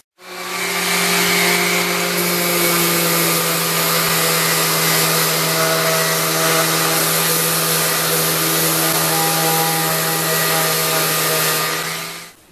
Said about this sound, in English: Now I take my sander, and I'm using this as a sanding guide